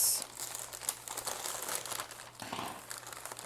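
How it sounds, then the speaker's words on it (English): Crinkly crumpling and rustle of a shipping package's packaging being cut open with scissors, close and continuous with small snips and crunches across a few seconds, no talking. "let's use scissors for this"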